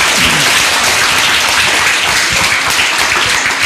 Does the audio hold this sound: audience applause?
yes